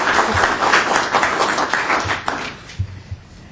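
Dense applause for a passport agent from the audience at a city council meeting, loud and sustained, thinning out toward the end with a few last scattered claps.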